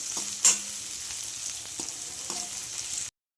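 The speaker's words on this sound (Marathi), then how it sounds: "छान परतवून घेऊया याला, एकदम छान परतवून घ्यायचं आहे 2 ते 3 मिनिटं" Capsicum for chilli paneer sautés in a hot pan with a steady, moderate sizzle, a sharp utensil clank near the start and a few lighter scrapes, before the sound cuts off abruptly.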